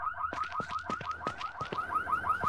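A second car alarm blares in the No One Survived video game, a fast pulsing electronic whoop repeating continuously at moderate volume, heard on its own without talk.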